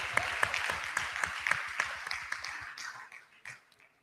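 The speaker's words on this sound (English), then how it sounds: "Can you give me a hand clap, please?" Audience applause at a book launch for a book about the Liberian civil war: a dense burst of many hands clapping that holds steady, then thins out and fades over about four seconds.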